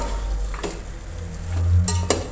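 Boiled chicken drumstick meat being stir-fried in a pan, a low steady sizzle broken by a few sharp scraping clinks of a spatula against the metal, close and alone without any voices.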